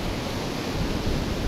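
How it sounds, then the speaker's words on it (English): Sea waves breaking at a shore with a clay-like bottom, heard as a steady broadband wash of surf, loud and close, mixed with some wind buffeting the microphone, with no talking. "and that's the sea"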